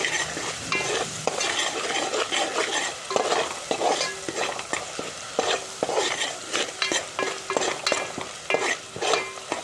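Tempering spices for Gujarati tuvar dal crackle and sizzle in hot oil while a spoon stirs rhythmically, scraping the pan in repeated strokes.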